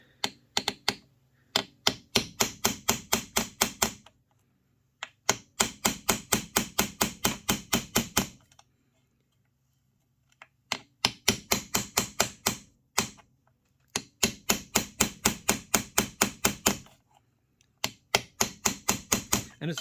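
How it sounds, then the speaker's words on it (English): A small chisel tapping on a stuck car light socket on a Plymouth Mopar, sharp metallic taps in fast rhythmic bursts of about a dozen strikes each, separated by short pauses, close and loud with no voices. "So just keep tapping on it to see if you can get it to give way on one side here."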